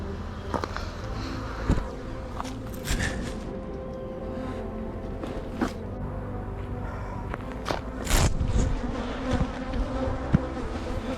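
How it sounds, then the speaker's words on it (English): Agitated honeybees swarm around an opened backyard beehive, a steady, dense buzzing drone close by, with individual bees zipping past the listener and occasional soft rustles and knocks from handling the hive. "the bees are upset. You can see there's a lot more of them flying around"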